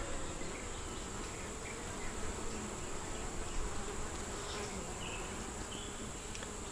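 Honey bees buzz steadily at an open hive during an inspection, a dense continuous hum that fills the whole stretch, close and even, with no talking.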